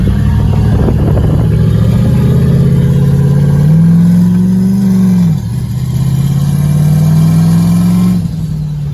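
A turbocharged 6.0 LS V8 with a 4L80E transmission in a caravan minivan accelerating hard from inside the cabin, a loud sustained engine drone rising in pitch, briefly dropping at a shift, then climbing again.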